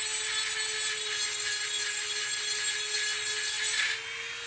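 A Dremel rotary tool with a diamond cutting bit screeches through steel in a close, loud, slightly pulsing grind that eases off near the end, with no voices.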